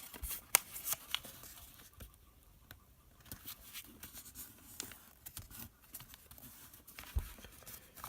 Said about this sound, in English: We'll take that bottom edge and fold it up to the bottom corner of that square there.